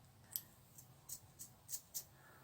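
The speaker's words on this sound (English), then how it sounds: "So I'm going to use my scissors and I'm going to cut off a lock here." Scissors snip through a lock of sewn-in hair for a shrunken head prop, six crisp, quiet cuts spaced irregularly against a near-silent background.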